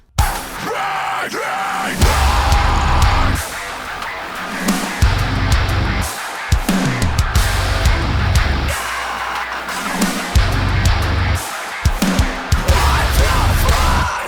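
A heavy metal breakdown pounds along loud and dense, its rhythmic low chugs and crashes punctuated by a layered sample hit stacked on every snare, with bursts of screamed vocals.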